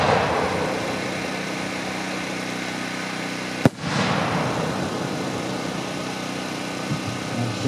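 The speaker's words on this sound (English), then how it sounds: "Next up, we have a Lidu 6-inch purple dark green." A Lidu 6-inch purple and dark green firework shell bursts with a single loud, sharp bang midway, followed by a fading rumble over a steady low background hum.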